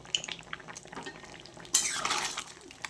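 Chicken rezala is stirred in a cooking pot, with scattered scrapes and clinks and then a louder burst of scraping and bubbling in the second half, close up and without talk.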